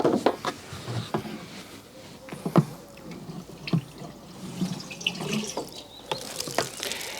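Water from an underground rainwater tank pump pours through a hose into a vegetable garden, a steady splashing flow with drips and gurgles, close and moderately loud, with no talk.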